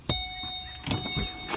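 An automatic sunroof on a 2008 Ford Expedition closes with short motor whirs and clunks, close by inside the cabin, with no talking over it.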